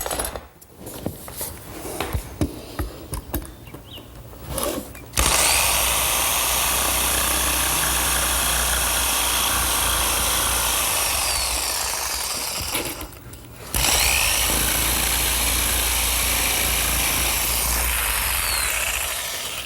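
A circular saw cutting melamine board guided along a square, loud continuous whining cut sustained for several seconds, pausing briefly then resuming for a second long pass, with handling knocks before.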